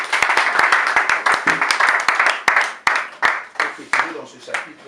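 A church congregation applauds in praise of the Lord during a tribute to the Ngbende family: steady, loud crowd clapping with sharp individual claps standing out, rising and falling in waves and fading toward the end.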